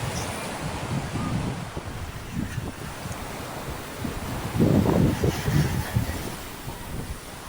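Sea waves surge at Turtle Beach in Karachi under gusty wind. Rough, noisy wind buffets the microphone throughout, and a louder swell of breaking surf rises in the second half. No one speaks.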